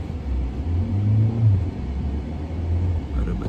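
A Mahindra XUV700 Dark Edition SUV pulls away with a low, steady engine rumble that swells briefly and then settles, heard close by with no talk over it.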